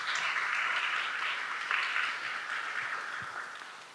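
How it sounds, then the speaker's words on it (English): A crowd at a game jam event claps for the organizers, a dense, steady round of applause that tapers slightly toward the end. "a big clap for them"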